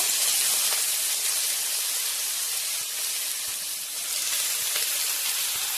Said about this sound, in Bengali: আলুটা একটু ফ্রাই করে নেব।